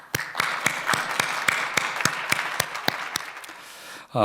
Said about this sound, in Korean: 우리 다 같이 하나님께 큰 박수로 영광 돌리도록 하겠습니다.